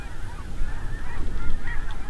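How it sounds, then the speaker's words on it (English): A big mixed flock of white-fronted, snow and blue geese flying over a partially harvested cornfield, loud overlapping honks and calls layered over one another in a continuous chorus, close and with no speech. "a whole gaggle of white-fronted and snow geese, and a few blue geese tossed in there too"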